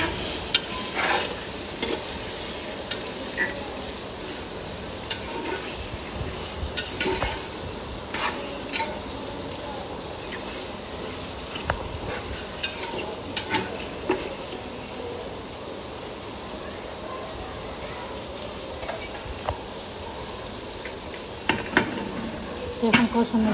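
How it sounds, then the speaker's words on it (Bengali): Bhuna khichuri fries in a pan while being stirred, a steady sizzle broken by frequent scraping spoon strokes that keep going the whole time, close and fairly loud, with no talking. "এখন আবার নাড়া দিয়ে নিতেছে"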